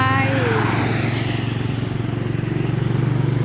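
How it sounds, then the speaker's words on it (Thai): A motorcycle ridden through Houay Xai district in Bokeo province, its engine droning steadily and close the whole time, with a voice briefly heard at the start. "ขี่รถจักรไป"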